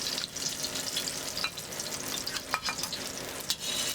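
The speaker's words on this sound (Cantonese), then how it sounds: "heat up your oil, and then we start to fry the eggplant" Eggplant fries in hot oil for stir-fried eggplant with salted fish, making a steady, fairly quiet sizzle with a few louder spits and stirring scrapes near the end, with no talking.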